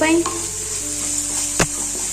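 Tomato and capsicum with vegetables sizzle and fry in a pan while being stirred, a steady close hiss with a scrape of the spoon partway through.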